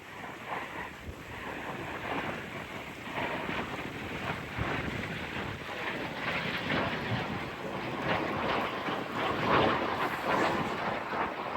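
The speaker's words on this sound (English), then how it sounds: "We have a jet Provost coming in hot." A Jet Provost jet aircraft passes overhead at an air show, heard from a boat as a steady broadband roar that builds slightly toward the end, with heavy wind noise on the microphone and no talk.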